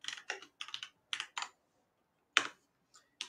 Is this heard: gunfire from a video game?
no